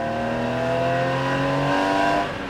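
A Gunther Werks 993 Speedster, a lightweight Porsche-based car, accelerating as its engine note holds steady and then climbs in pitch, loud and close throughout, then tapers slightly near the end.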